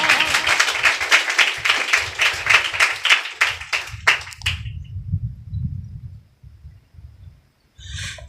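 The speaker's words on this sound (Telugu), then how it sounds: "చప్పట్లు కొడతారా?" A church congregation at a Sunday service breaks into loud, dense clapping for several seconds, then it thins out and dies away into a low murmur.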